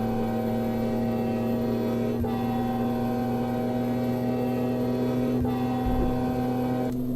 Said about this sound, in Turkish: Tırlar geçiyor. Tır yok trenler.